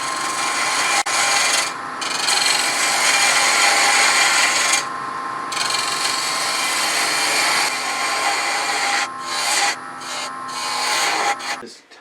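A 3/8 inch spindle gouge cuts walnut spinning on a lathe for a turned box, a steady close scraping rasp that runs almost continuously, with a few short pauses where the tool lifts away.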